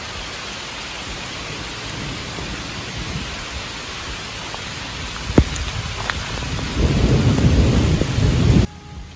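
Steady heavy rain pours throughout an evening visit to Turelbaach castle in Luxembourg, with a sharp nearby thunder crack near the middle and a louder, closer surge of downpour before it cuts off abruptly.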